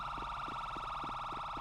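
A police car siren in a roleplay video game wails steadily at a modest level with a rapid pulsing warble, no talk over it.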